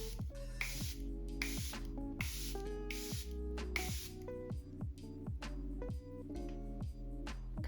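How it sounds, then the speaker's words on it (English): Charlotte Tilbury Airblush Flawless setting spray misted in a run of short hissing bursts, close and clear, alternating with soft squishy clicks and drips over roughly eight seconds with no talking. "I'm gonna take my Charlotte Tilbury Airblush Flawless setting spray"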